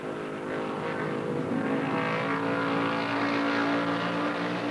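1968 stock cars, among them Richard Petty's Plymouth, roaring around an oval track at the Southern 500, a continuous distant engine drone swelling and fading as the cars pass.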